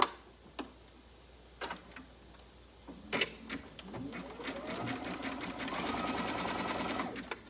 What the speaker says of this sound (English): so let's sew the other side